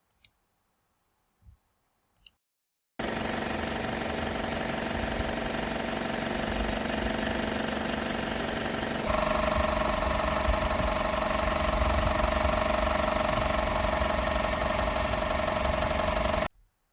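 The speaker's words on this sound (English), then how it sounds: "the second one when the engine is running" Engine of a Toyota RAV4 runs at a steady idle, a continuous even drone close to the microphone that shifts slightly in tone midway, preceded by a few faint clicks and near silence.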